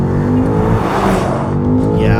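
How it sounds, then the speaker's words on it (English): A BMW X6M Competition engine roars close by under hard acceleration, with a deep, bass-heavy whump as it shifts up. Voices talk over the steady, loud engine note. "On that second shift, it really gives you a whump of bass"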